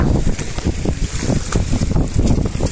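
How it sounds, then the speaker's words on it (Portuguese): Strong wind buffets a fishing boat at sea while waves wash over it, a loud, continuous roar of gusts and microphone wind noise with surging water underneath. "O vento é forte, galera, mas a gente se vira nos 30."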